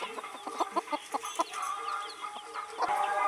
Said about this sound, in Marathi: बघा ही कोंबडी आणि कोंबडीची पिल्ली.